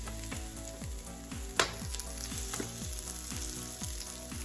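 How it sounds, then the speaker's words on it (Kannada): Sweetcorn cutlets frying in a little oil over a low gas flame, a steady close sizzle with repeated rhythmic chirps and one brief sharp clatter partway through. "ಸ್ವಲ್ಪ ಎಣ್ಣೆಯಲ್ಲಿ ಈಗ ಇದನ್ನು ಇನ್ನೊಂದ್ಸರಿ ಕಾಯಿಸುವ. ಗ್ಯಾಸ್ ಮೆಲ್ಲನೆ ಇರಲಿ."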